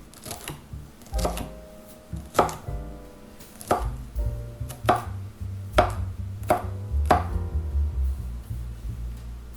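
A knife chops jalapeños on a cutting board in slow, uneven strokes, each a sharp thud, with a low hum underneath.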